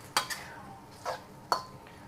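A utensil scrapes and taps against a wok as kung pao sauce is stirred over high heat, giving three or four sharp, close metallic clinks spaced about half a second apart over a faint background.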